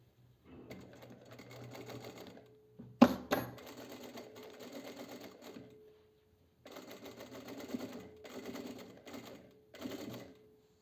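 An electric sewing machine stitching a lastex midi dress, running in steady whirring bursts of a few seconds each, separated by pauses and one sharp clack, close and fairly quiet.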